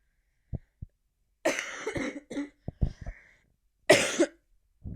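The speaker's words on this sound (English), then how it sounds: "I've just got a chest infection, so my cough is a bit annoying." A person with a chest infection coughs in several harsh bursts, a couple of small throat sounds first, then a cluster of coughs and one final loud cough, close and otherwise quiet.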